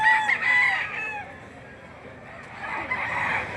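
A green-legged rooster crows from a moderate distance at a livestock auction market in Lipa, a drawn-out call over faint background noise, with a second crow starting near the end.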